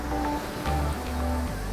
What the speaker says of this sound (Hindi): ये जो लहरें हैं